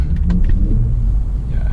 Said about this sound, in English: that's the sound of his car.